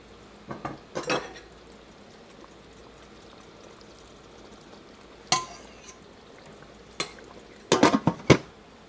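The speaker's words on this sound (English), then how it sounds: "I've got food cooking over here on the stove. Let me check it" Pots and pans on a home stovetop being checked while food cooks, with sparse sharp metallic clanks and lid or utensil knocks in short bursts against a quiet kitchen background.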